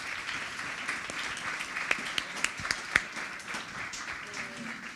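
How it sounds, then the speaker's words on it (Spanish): A business conference audience applauds the panelists after a panel discussion. Fairly faint, scattered clapping runs throughout, with a few sharper individual claps standing out near the middle, and no voices on top. "démosle un aplauso, por favor, a nuestros panelistas"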